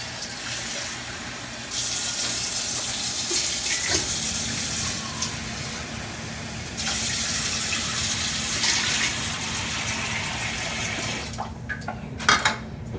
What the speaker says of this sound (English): Just going to put in 2 cups of water.